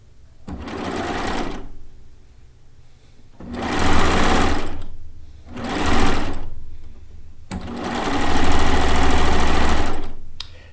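A serger sewing machine stitching pieced fabric runs in four loud whirring bursts of a few seconds each, with short quiet pauses between them and no talking.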